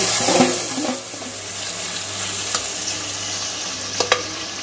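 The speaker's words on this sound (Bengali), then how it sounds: "এখন মাটনটা আমি খুব ভালোভাবে মশলার সাথে কষিয়ে নেব" Marinated mutton cooking down with spices in a pan for tehari makes a steady broad sizzle, with a few soft stirring scrapes and light clicks over it, and no voices.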